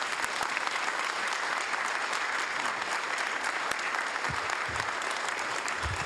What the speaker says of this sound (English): let's give both the choir a big round of applause and Ariana